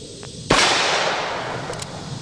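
A single sharp, loud crack from a .460 Rowland handgun fired at a target range, ringing out with a long rumbling decay afterward.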